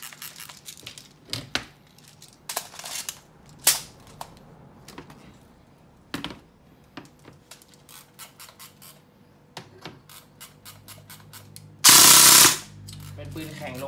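A custom CNC-built black and gold gun fires 0.20 g pellets during a power test: scattered sharp, close clicks and shots, ending in one loud, sustained burst near the end.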